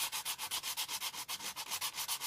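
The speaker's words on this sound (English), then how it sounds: "I'm sanding with the grain at this point" A wood bowl is sanded by hand with 100 grit sandpaper, giving close, steady rhythmic rasping strokes with an even back-and-forth beat and no voices.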